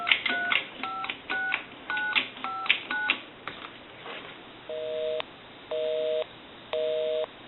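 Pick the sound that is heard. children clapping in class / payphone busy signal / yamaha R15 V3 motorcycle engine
payphone busy signal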